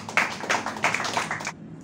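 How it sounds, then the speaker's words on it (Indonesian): An audience at an evening religious talk gives a short burst of applause, a dense patter of hand claps at moderate volume that stops abruptly after about a second and a half. "Wow, boleh tepuk tangannya ikhlas."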